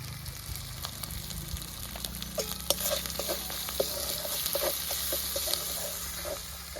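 Ginger-garlic paste frying with salt, turmeric and spices in a pan for matar paneer makes a soft, steady sizzle, with a spoon scraping and stirring in irregular clicks, close by with no talking.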